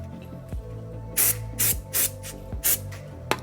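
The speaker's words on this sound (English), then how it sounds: "if you always get some brake clean when you're doing a brake job" Brake cleaner sprays onto brake parts of a BMW E82 135i in short, loud, hissing bursts, about six of them spaced irregularly, with a low background hum.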